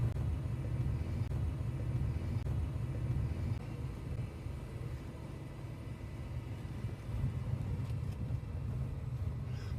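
A steady low rumble fills the inside of a hot car driving through southeastern St Thomas, Jamaica, with the engine and road noise droning continuously and evenly throughout, no voices heard.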